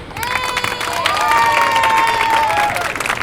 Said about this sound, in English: Can you please come in the front so you can get a round of applause from people?